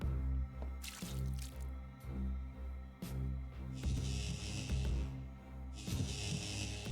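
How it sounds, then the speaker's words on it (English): Water drips from a goblet onto a sapling in The Sexy Brutale, a few soft wet drips and squishes set against a steady low musical drone, with brighter splashy bursts toward the end. "And then we water it."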